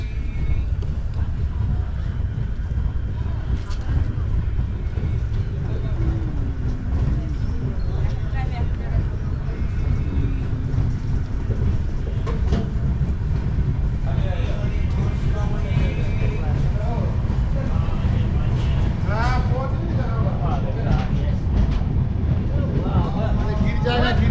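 The Sealdah Express passenger train runs after leaving Buniadpur, a continuous low rumble and rattle heard from inside the carriage, with passengers' chatter and background voices throughout.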